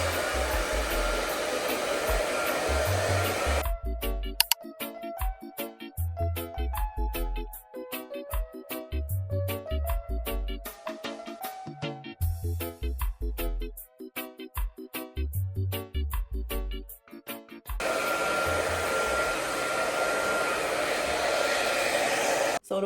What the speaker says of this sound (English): You can either use the blow dryer with the comb attachment or you can use a brush